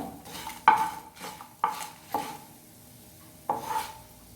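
Grated coconut frying in a pan, stirred with a few sharp scraping clacks of a spoon against the metal over a soft sizzle, close and without talk.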